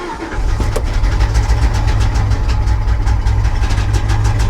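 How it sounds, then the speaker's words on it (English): An abandoned 1980s Pontiac Firebird cranks and runs, its engine making a loud, steady, rough low rumble close by for several seconds, with no voices. "Let's put the key in the ignition. Let's see what it does."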